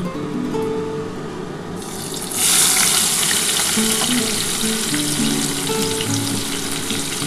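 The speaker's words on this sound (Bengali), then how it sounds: "এবার এই তেলের মধ্যেই আমি কিন্তু পেঁয়াজগুলো দিয়ে দিচ্ছি।" Onions dropped into hot oil left from frying pomfret fish in a pan hit with a sudden loud, steady sizzle that swells after a quieter start and carries on close and unbroken.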